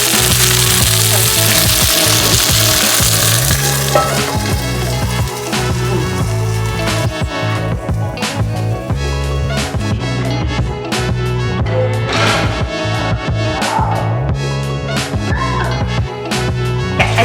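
Bánh xèo crepe frying in a hot pan, a steady loud sizzle and crackle running throughout with occasional scraping and clinking of utensils, no talking.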